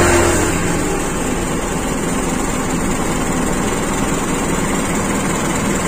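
A Toyota Kijang petrol engine idles steadily just after starting, a loud, close, even mechanical drone with a faint ticking rhythm and no voices.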